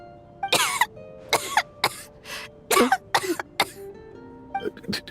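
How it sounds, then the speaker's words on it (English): A character in the video game Genshin Impact lets out a run of harsh coughs and throat clearing, about seven bursts in uneven rhythm, close and fairly loud. "How long have you had that cough, Tonya?"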